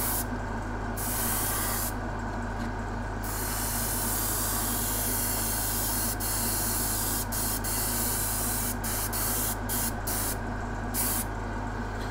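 An airbrush sprays flat black paint at about 15 psi, a steady close hiss that runs unbroken under a constant low hum, with brief breaks and short bursts as the trigger is eased.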